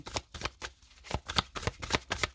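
Tarot cards shuffled and slapped down in quick, uneven bursts of crisp papery riffles and soft taps, close and fairly quiet, with no voices.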